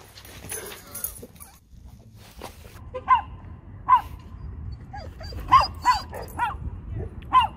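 Several short yips from a small dog, spaced a second or so apart, over a low rumbling background with faint voices early on.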